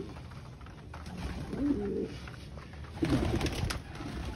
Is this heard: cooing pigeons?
yes